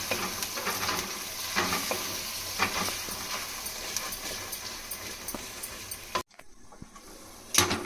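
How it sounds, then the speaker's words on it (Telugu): Tomato puree sizzling loudly as it goes into fried onions in a pan, with continuous close frying hiss and intermittent stirring scrapes, then a sudden brief drop to near quiet before the sizzle returns. "నేను 2 మీడియం సైజ్ టమాటాలు ప్యూరీ చేసుకున్నాను. ఇప్పుడు అది కూడా వేసేసుకుంటున్నాను"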